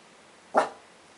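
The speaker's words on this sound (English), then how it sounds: "I think he hears some kind of noise, because I hear some kind of noise too, and he's like barking at it" One sharp, loud dog bark rings out against a low background hiss.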